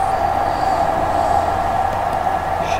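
A tram rolls past in the Roblox game, giving a steady loud rumble with a continuous hum that holds for the whole stretch without a break, and no voices over it.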